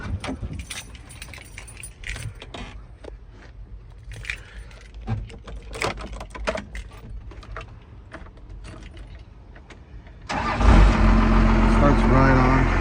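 Keys jangle and rattle near a pickup truck for several seconds, then the engine, fitted with a muffler, cranks and catches abruptly near the end and settles into a loud, steady run.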